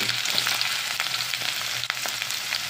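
Chopped shallots frying in a pan for beetroot thoran give a steady, close sizzle with light stirring. No one speaks.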